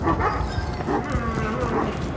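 A dog on a farm gives a continuous run of close, loud yips and whimpering barks, busy and uneven throughout.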